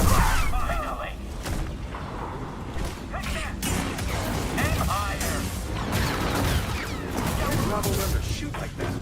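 Video game gunshots ring out in a dense, loud mix of shots, booms and mechanical clatter, with continuous game noise and voices talking throughout.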